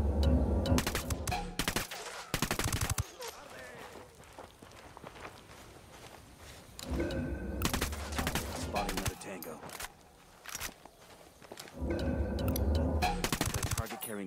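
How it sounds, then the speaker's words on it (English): Bursts of submachine gun fire crackle in Ghost Recon Wildlands, loud rapid volleys clustered at the start, middle and end, with quieter movement and shuffling between them and a voice in the background. "Submachine guns."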